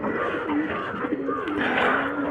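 Pigeons in a breeding cage coo in low, repeated throaty phrases, close by and continuous over a soft background hum.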